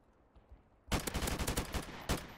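Gunfire in Modern Warfare Remastered: after a quiet start, a loud close burst of rapid automatic shots, then a short final volley.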